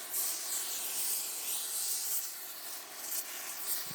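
A torch flame hissing steadily, close, as it heats the exhaust manifold ear around a stud on a Mustang GT engine, a continuous rushing blast with slight surges and no voices.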